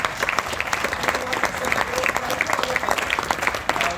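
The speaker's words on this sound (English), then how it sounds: "So we should have a round of applause." Steady audience applause at a business summit, a room full of people clapping evenly for a few seconds, moderately close, without speech over it.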